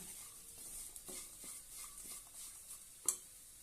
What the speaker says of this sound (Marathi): आता यामध्ये मोठा रवा घालूया आणि छानपैकी परतून घेऊया